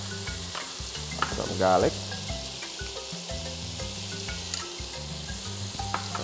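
Butter sizzling in a pot as onion and garlic fry for Trini corn soup, a steady close crackle with stirring clatter and a brief louder burst, under a quiet spoken voice.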